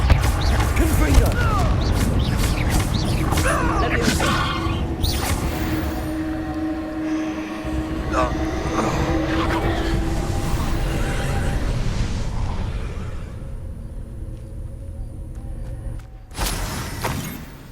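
A Confringo blasting curse erupts in the wizarding game Hogwarts Legacy, a loud crashing explosion burst followed by rumbling debris and mechanical clatter that gradually fades, with a sharp impact near the end.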